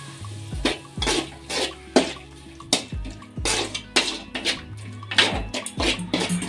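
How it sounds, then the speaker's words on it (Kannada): Water splashes into okra masala frying in a pan, giving a series of sharp sizzling bursts and stirring scrapes in irregular pulses, close and fairly loud without talk. "ಸ್ವಲ್ಪ ನೀರು ಹಾಕ್ಕೊಂಡು ಫ್ರೈ ಮಾಡ್ಕೊಳ್ಳೋಣ"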